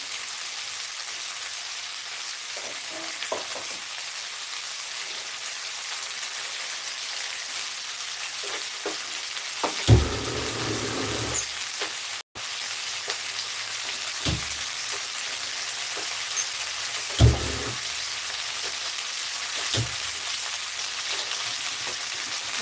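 Two okra pieces frying in a pan for a tamarind okra stew give a steady, close sizzling hiss throughout, broken by a few soft clunks of stirring. No one speaks.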